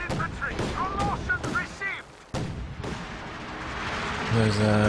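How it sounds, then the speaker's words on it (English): Flak panzer guns firing in the Company of Heroes 2 battle, rapid booming bursts and crackling impacts amid in-game shouts, with a commentator talking over the fighting. "the flak panzer's just tearing them to shreds here"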